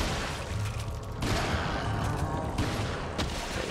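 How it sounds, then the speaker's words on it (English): Shotgun blasts and gunfire in Resident Evil 4 during the Leon Kennedy versus Ramon Salazar fight, a dense, steady barrage of loud game shots and booms with no pauses. "Just do what I did last time, shoot him with a shotgun"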